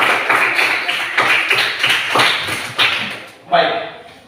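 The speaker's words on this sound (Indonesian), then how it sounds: "Kita tepuk tangan dulu ya." A classroom of students clapping their hands together, rhythmic bursts of taps that fade out, followed by a single sharper clap.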